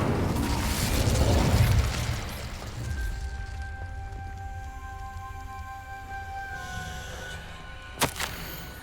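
A fiery spell bursts in Hogwarts Legacy with a loud whooshing boom that fades into a low rumble and ringing magical tones, followed by a sharp click near the end.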